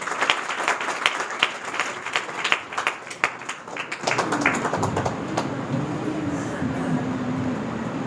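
A church congregation at a Living Soul Ministry service bursts into scattered, close applause that builds into sharp individual claps, then dies away into a low, continuous room murmur with a faint hum underneath.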